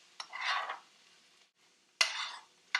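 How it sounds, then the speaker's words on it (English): A spoon stirring and mashing chickpeas in a pan, giving a few scraping, sizzly strokes with a brief pause between them, close and clear. "You're going to keep stirring to make sure that nothing gets stuck to the bottom of the pan."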